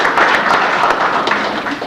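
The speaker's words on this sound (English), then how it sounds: "How about a round of applause?" An audience at a lunchtime book talk claps in a dense, steady round of applause that carries through the whole short stretch.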